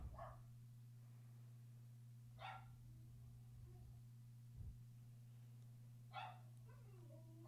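Dogs bark in scattered bursts, a yelp and single barks spread out over several seconds, a little way off, against a constant low hum and room noise.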